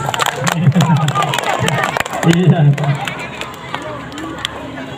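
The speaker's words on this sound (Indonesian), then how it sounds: "Tepuk tangan untuk Susi." Class of fifth-grade primary school children in Palembang clapping for a classmate, a dense burst of applause and crowd noise mixed with talking voices.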